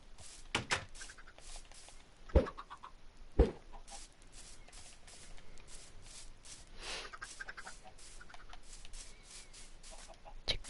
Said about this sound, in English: Chicken, chicken, chicken, chicken.